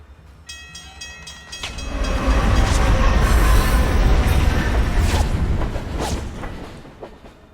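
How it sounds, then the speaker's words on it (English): A train rumbles past in the video game Alpha Protocol, with a brief horn-like tone early on, then a loud sustained roar of rolling wagons that swells through the middle and slowly fades. "Oh, that guy almost got hit by the train."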